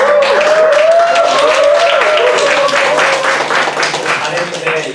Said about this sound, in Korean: 우리 문서팀들 박수 한번.